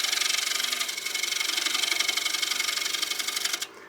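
A wood lathe spins steadily while an Easy Wood Tools carbide cutter takes light, delicate passes on a turned wooden bowl, giving a continuous close hiss and whir with a faint rhythmic flutter, cutting off near the end.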